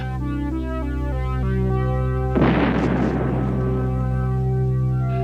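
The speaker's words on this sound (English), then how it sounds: "shows a spaceship shot from a giant cannon" Over steady orchestral music in an old film, a giant cannon fires a sudden loud boom that crackles away for a second or so before the music carries on.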